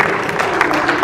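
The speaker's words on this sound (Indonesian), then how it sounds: "Mulai tepuk tangannya untuk Road Glide CVO" A crowd at an Indonesian launch of the 2025 Harley-Davidson CVO Road Glide claps in steady applause for a short moment, filling the room evenly.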